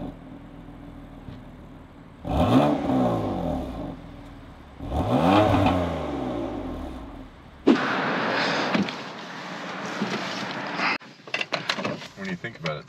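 A BMW F80 M3 is started and revved, its exhaust giving two rising, growling bursts, then a sharp crack into a steady loud rumble and some popping, heard close.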